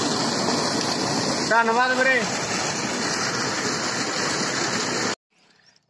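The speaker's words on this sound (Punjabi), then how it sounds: "ਆਪਾਂ ਹੁਣ ਪਹਿਲਾਂ ਪਾਣੀ ਚਾਲੂ ਕਰਤਾ ਜੀ" Water gushes steadily from an irrigation pump into a freshly sown rice field, a continuous rushing roar close by. Someone speaks briefly over it before the sound cuts off abruptly near the end.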